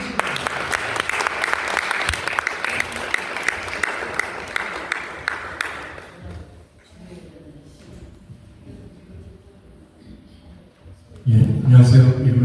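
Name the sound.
audience applause welcoming lecturer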